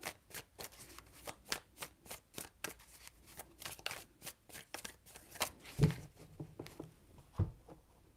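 Tarot cards being shuffled by hand, a rapid series of crisp riffling flicks with short pauses and a few louder taps near the end, close and clear.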